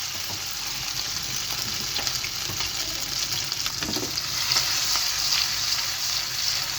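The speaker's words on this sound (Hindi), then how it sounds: "अब हम इसमें हमारा बीफ डाल के हम इसको फ्राई कर लेंगे पहले।" Beef frying in hot cooking oil in a frying pan, for a chilli beef stir fry, gives a steady, dense sizzle with crackling pops and occasional stirring scrapes, close and continuous throughout with no talking.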